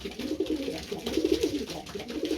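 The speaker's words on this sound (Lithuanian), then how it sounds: "jūs žiūrėkite į mano paukščius" Pigeons cooing in a loft, low repeated throaty coos in steady bursts, close and fairly clear with a soft background hiss and no talk.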